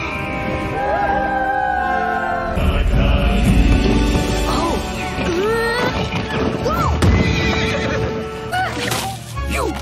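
A mustang neighs and whinnies repeatedly, rising and falling, over loud clattering hoofbeats and thuds in an animated film's dramatic action scene, with a busy music-and-effects mix and no clear talking.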